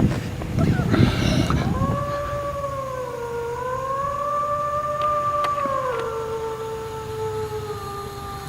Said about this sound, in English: The howling echoes through the dense fog, long, drawn out, and not quite animal, and definitely not human.